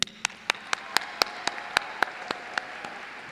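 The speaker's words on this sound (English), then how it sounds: "giving a well-deserved round of applause of appreciation" Steady, evenly spaced claps at a graduation ceremony, about four per second, crisp and close, with nothing else sounding between them.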